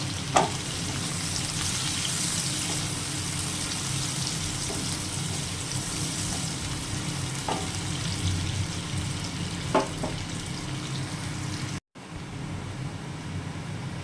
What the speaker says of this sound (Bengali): দুটো পেঁয়াজ কুচানো আছে হালকা করে ভেজে নেবো